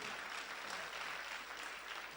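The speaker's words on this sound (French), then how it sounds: "Merci de l'applaudir" Faint applause from an audience at an awards ceremony in Mali, a soft, continuous patter of many hands heard at a distance, steady throughout and without talking.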